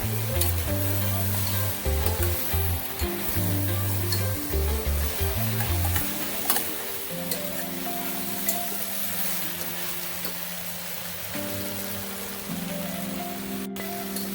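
Soybeans and other ingredients frying in a pan as they are mixed, a loud steady sizzle with scraping stirs, under low background music and no speech.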